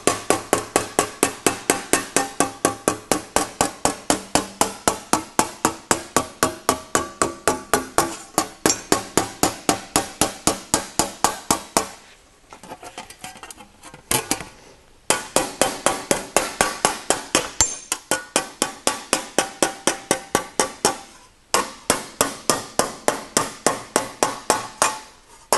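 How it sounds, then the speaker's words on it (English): Rapid, evenly spaced metallic hammer taps on sheet metal, loud and close, in long runs broken by a few short pauses. "I do a little hammer so the wire continue to stay there"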